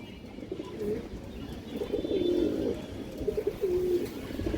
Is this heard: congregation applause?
no